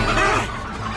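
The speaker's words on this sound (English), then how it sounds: "Oh, yes, little chickens." Cartoon chickens cluck on a farm, a brief dense burst of clucking that fills the short moment amid a busy soundtrack.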